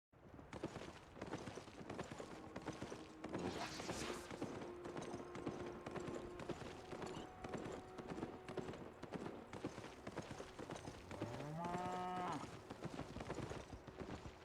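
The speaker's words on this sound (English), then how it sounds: "I'm riding a donkey." Steady, rapid clip-clop of donkey hooves from a ridden mount in the video game Albion Online, continuous throughout with busy game sounds, a brief rising tonal sweep near the end, and faint background voices.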